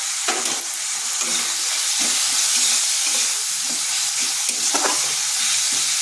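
Tomato with salt and turmeric frying in a pan, a loud continuous sizzle with soft rhythmic stirring scrapes throughout, close up.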